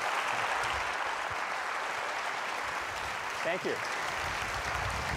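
Audience applause at a Science at the Theater evening of short science talks, steady broadband clapping filling the whole stretch, with a brief spoken thanks near the end.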